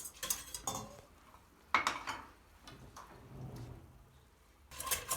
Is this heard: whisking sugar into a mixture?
yes